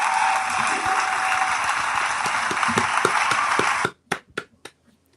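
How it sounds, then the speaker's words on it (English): Dense, steady applause from a crowd fills most of the clip, then cuts off abruptly into a few scattered, sharp claps fading out. "Where's the applause?"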